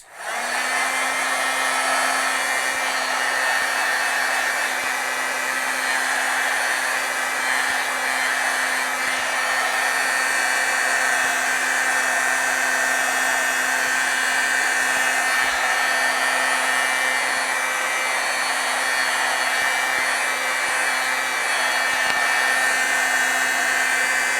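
A heat tool blows hot air to set freshly stamped ink, a loud, constant whirring hum with a steady tone that runs unbroken for the whole stretch, nearby and alone.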